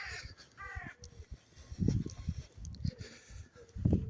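A crow caws several times near a grave in a cemetery, with harsh repeated calls coming in short bursts, fairly close and alone.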